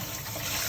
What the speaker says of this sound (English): we're gonna put some water in here. Just leave some cold water.